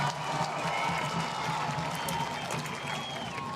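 Stadium crowd in Tennessee cheering and clapping after a goal in a soccer penalty shootout, a broad steady roar of voices and applause heard from a distance.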